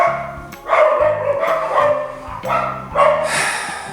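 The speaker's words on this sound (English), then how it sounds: "the dogs wouldn't shut the hell up" Several dogs bark repeatedly and loudly at close range, overlapping yaps and barks coming in bursts over an underlying low hum.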